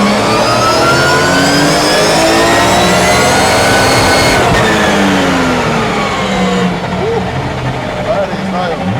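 A Nissan 350Z drift car's 2JZ engine revs loudly and close, pitch sweeping up and down through several hard pulls, with a voice partly audible over it.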